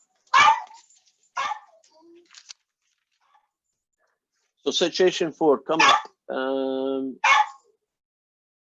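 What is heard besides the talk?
dog barking for attention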